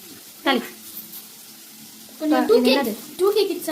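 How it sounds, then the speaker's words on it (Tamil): Sizzling of spices tempering in hot oil, with short bursts of stirring and spattering, broken by brief moments of voices nearby. "அதே எண்ணெயில் வந்து திரும்ப ஏதோ போட்டு தாளிக்கிறாங்க."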